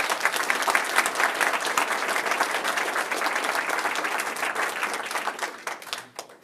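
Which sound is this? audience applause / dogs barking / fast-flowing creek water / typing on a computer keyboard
audience applause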